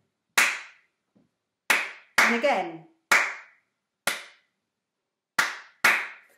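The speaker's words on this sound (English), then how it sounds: "Well, I say play, I'm going to clap it." Seven sharp, close hand claps ring out alone in near silence, spaced in an uneven rhythm with one quick double clap, and a brief spoken phrase comes in partway through.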